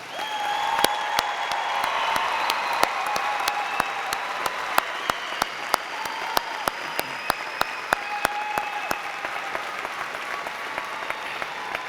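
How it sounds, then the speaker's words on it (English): Sustained applause from a commencement crowd for business school graduates, a broad steady roar of clapping with sharp individual claps popping out close by across the whole span. "let's give these graduates one more round of applause"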